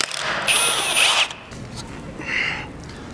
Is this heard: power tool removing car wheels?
yes